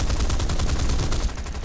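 Rapid aircraft cannon fire in War Thunder arcade battle, a dense, loud rattling burst of repeated shots with a short dip before continuing.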